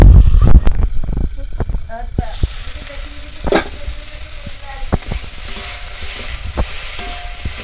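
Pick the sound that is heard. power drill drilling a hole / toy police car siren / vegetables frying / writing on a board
vegetables frying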